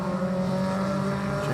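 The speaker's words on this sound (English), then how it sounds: "There you can see Dangle, second of those MotorMart cars coming through." MotorMart VW Challenge race cars roar past on the Zwartkops circuit, a steady loud engine drone with a slight pitch shift as they come through, heard from trackside.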